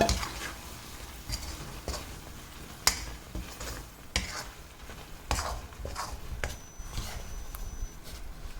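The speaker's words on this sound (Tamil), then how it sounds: "நல்லா வதக்கிட்டு நம்ம வெயிட் பண்ணலாம் வதங்கட்டும் நல்லா" Crab masala sautés in a pan, a soft continuous sizzle broken by regular scraping and clinking strokes of a spoon stirring against the metal, fairly quiet and close, with no speech.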